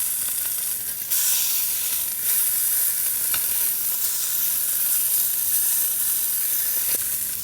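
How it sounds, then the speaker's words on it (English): Filet mignon steaks sear in a hot pan, a steady close broadband sizzle and hiss running throughout with a few brief crackles and pops, no voices. "Steaks are seared off."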